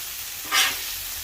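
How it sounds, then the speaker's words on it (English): Beef burgers sizzling on a flat top grill, a loud steady hiss that flares briefly as a patty is flipped, then settles back to a constant sizzle, with no talking. "We're going to give them one more flip"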